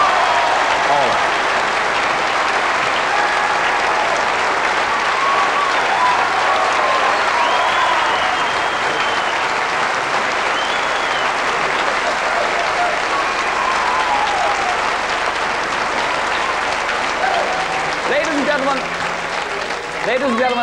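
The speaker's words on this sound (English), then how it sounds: "they all deserve one last round of applause" A theatre audience at the 1981 Tops of the Town final applauds in a dense, loud, unbroken roar of clapping that holds for about twenty seconds and eases slightly at the end.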